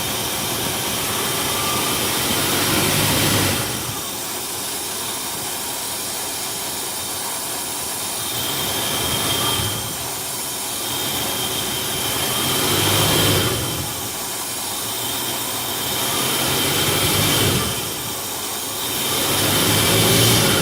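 Car engine revved repeatedly during a timing light check, the roar swelling and easing in several steady cycles at close range, with no talking.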